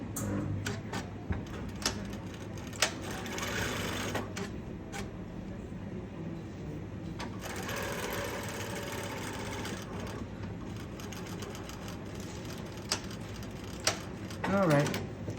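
A sewing machine stitches darts on a top in a steady, fairly quiet mechanical whir that runs through most of the clip, broken by small clicks and a few brief pauses, with a voice briefly near the end.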